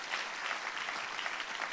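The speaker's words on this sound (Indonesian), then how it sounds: "tepuk tangannya lebih dahsyat lagi buat Yesus Tuhan kita" Church congregation applauding a pastor's call to praise Jesus, a steady, dense wash of clapping from many hands, sustained and even throughout with no break.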